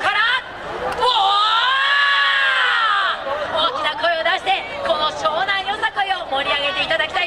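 A festival crowd at the Shonan yosakoi festival roars out a collective shout, the "Hama no Sakebi" cry, with a sustained loud mass of voices followed by lively cheering and chatter.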